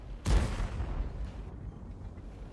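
A single booming tank cannon shot from a light tank in an online tank battle game, a sharp loud blast followed by a rumbling decay.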